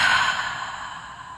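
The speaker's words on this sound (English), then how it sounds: "Let's take 3 deep inhales and exhale out the mouth." A deep exhale out through the mouth during a guided breathing exercise, a steady breathy rush that slowly fades over about a second and a half, close and alone.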